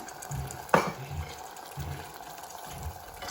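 Crushed tomato paste being stirred into a pot of toor dal (Gujarati pigeon pea dal) in hot oil, with a soft sizzle and a few rhythmic scraping strokes, plus one sharp clink of the spoon against the pot.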